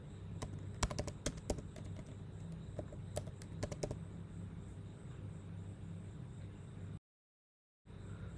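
Computer keyboard keys clatter in quick bursts of sharp clicks over a quiet room hum, then fall silent while the hum continues and briefly drops out near the end.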